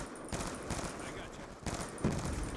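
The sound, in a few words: gunfire in video game Black Ops 2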